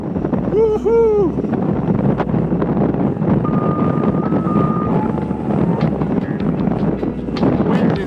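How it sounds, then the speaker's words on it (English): Strong wind roars and buffets the microphone on a bicycle tour up a hill in Colorado's Poudre Valley during a thunderstorm, a loud, continuous rush with brief whistling tones rising through it. "The wind is almost blowing me back up the hill."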